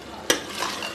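A spoon stirs dried kasturi methi (fenugreek leaves) into a simmering black chana curry, one sharp scrape followed by a soft, steady sizzle and stirring.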